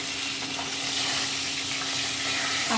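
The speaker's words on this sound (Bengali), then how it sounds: "আমি এই মাছের তেলের মধ্যেই ফুলকুটিগুলো ভেজে নেব" Cauliflower florets and a potato fry in hot oil left from frying fish, with a loud, constant sizzle and crackle, close up and unbroken throughout.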